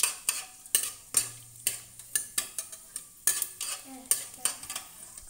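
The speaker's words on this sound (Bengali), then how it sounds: "এতে এবার দিচ্ছি অল্প একটু পাঁচফোড়ন আর একটা তেজপাতা। এটা হালকা একটু নাড়িয়ে নিলাম।" A spoon stirs panch phoron and a bay leaf in hot oil in a kadai, making a dozen or so quiet, rhythmic scraping strokes with faint sizzle.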